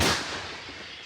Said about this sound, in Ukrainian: Перезарядка і знову вогонь. Гармата! Постріл!